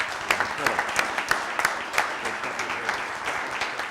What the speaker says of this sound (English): let's give a round of applause for our instructors here